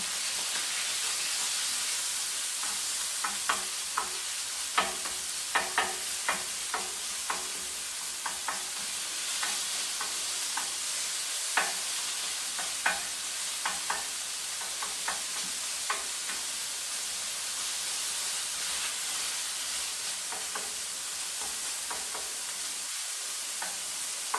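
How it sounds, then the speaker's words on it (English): Ground pork and potatoes stirred in a frying pan: steady sizzling and hissing with repeated scraping clicks of a utensil against the pan, close and alone without talk. "I just dropped in like the ground pork. So now I'm going to mix them."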